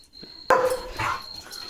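A German Shepherd lets out one sharp, loud bark close by, followed by a short trailing yelp against a faint steady whine.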